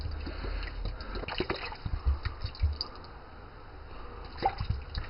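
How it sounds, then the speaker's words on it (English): Water poured over potted blueberry plants in fresh cocoa coir soaks in with soft dripping and trickling, a faint close patter that keeps going in small bursts. "We're going to water till we see drainage basically."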